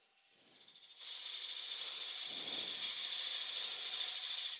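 A woodturning tool cuts deeper lines into spinning wood on a lathe, giving a steady, hissing, rasping whir that starts faint, then jumps louder after a second and holds evenly close by.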